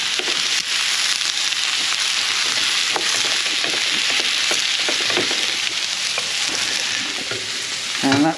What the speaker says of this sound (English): I'm now just going to fry everything all up so that onion and garlic, along with the mushroom, all gets coated in butter.